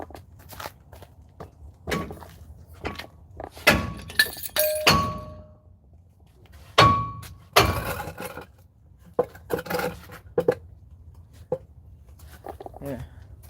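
A hammer strikes the brake of a 1997 Chevy Silverado truck during a repair, giving irregular metallic clanks and thuds. Some land in quick bursts, others are spaced apart, with faint background noise between them.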